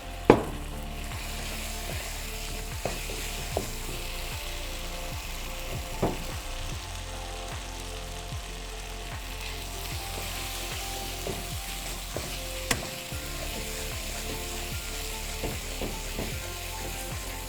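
Chicken masala fries in Dalda oil with tomatoes and yogurt, giving a steady low sizzle with scattered clicks and scraping stirs, loud and close, with no talk.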